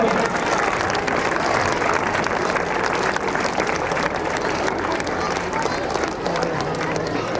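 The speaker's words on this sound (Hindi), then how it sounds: "सारे मार्च पास पार्टिसिपेंट्स के लिए जोरदार ताली हो जाए।" A large crowd claps loudly and continuously for march-past participants at an Independence Day event, a dense sustained applause with some background voices mixed in.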